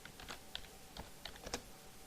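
Computer keyboard typing in short bursts of light, close key clicks, faint and irregular over about two seconds, with no talk.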